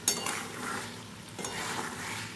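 Raw mourola fish chorchori with a drizzle of raw mustard oil gets stirred in a pan, soft frying hiss under scraping spatula strokes and a light clink of metal.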